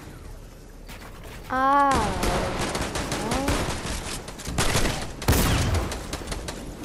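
Rapid bursts of gunfire from a video game, loud and sustained with a sharp blast near the end, as a man exclaims briefly over the shooting.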